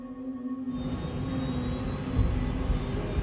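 Airliner jet engines during the takeoff roll, a steady loud roar and whine with a sustained tone that builds in power partway through and holds, close and without talk.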